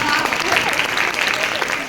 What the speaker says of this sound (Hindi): ताली बजाइए इसके लिए भी।